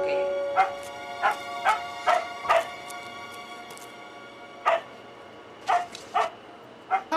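Several dogs bark in short, sharp bursts, a quick run of yips followed by a pause and a few more barks, fairly close and loud.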